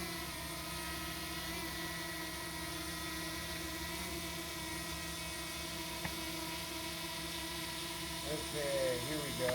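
A DJI drone's propellers whir in a steady, loud, buzzing drone that holds for the whole stretch, with a brief tick midway and a rising pitch shift near the end as it lifts off.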